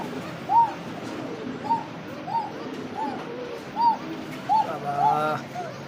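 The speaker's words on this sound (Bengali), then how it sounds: "গ্রামের কবুতর যে এত ডাকে রে ভাই" Village pigeons, a male and female pair at a market in Bangladesh, coo repeatedly, about seven rounded calls at regular intervals over a low background murmur, close and fairly clear.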